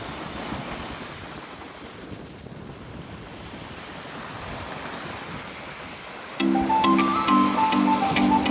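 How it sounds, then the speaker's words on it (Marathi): Sea waves wash continuously onto Manori beach, a broad steady surf rush with wind buffeting the microphone, before a louder tonal electronic sound joins near the end. "समुद्राच्या कडेला लाटा पाहत बसणे कित्येकांसाठी पर्वणी असते."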